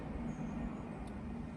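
A train rumbles past near a canal narrowboat mooring on the Grand Union Canal between Tring and Berkhamsted, a steady broad low roar at moderate distance with no talking.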